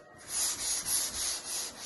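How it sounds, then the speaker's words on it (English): Sandpaper of 80 grit on a long block is pushed back and forth over a car body panel, making rhythmic abrasive rasping strokes, about five close, even passes with no talking. "80 grit sandpaper on the long block"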